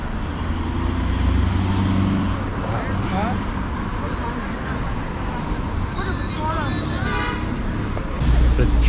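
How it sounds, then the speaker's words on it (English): Busy city street traffic in China on National Day, a steady dense roar of cars and scooters with occasional horn toots, people talking nearby throughout. "The traffic today"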